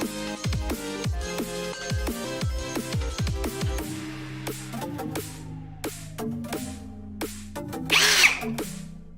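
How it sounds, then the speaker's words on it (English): A power drill whirs in short bursts and revs, with knocking and clattering between runs and a brief harsher whine near the end. "So it says to chuck the pin up in the drill."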